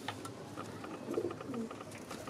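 Domestic racing pigeons, ordinary flying birds kept by a breeder, coo softly and repeatedly in a loft, a low murmuring chorus that stays steady and fairly quiet throughout with no talk.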